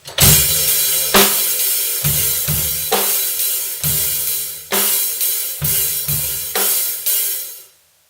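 A heavy metal drum beat plays alone, with booming bass drum and cracking snare hits on beats 2 and 4 in a steady rhythm, close and loud, ending with a decaying crash.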